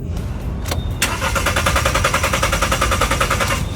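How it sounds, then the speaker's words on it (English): A car engine cranks over and over without catching, a fast steady rhythmic starter chatter that runs loud and close for several seconds after a couple of sharp clicks. "This car won't start."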